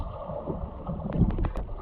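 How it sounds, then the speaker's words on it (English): Freestyle swimming with one kick per stroke gives a steady low wash of churning water, with a few light splashes near the end. "1 kick per stroke sounds like this."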